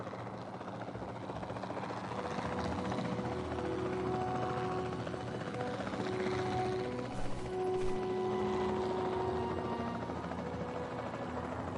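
A helicopter flies in the dinosaur park game Jurassic World Evolution 2, its rotor drone steady and continuous throughout, loud and close with faint tonal game sounds layered over it.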